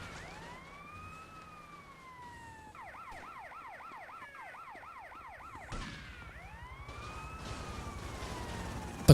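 Police sirens in GTA: Vice City sweep up and down in long wails, switch to a rapid yelp, then return to wailing, with game engine noise rising beneath them.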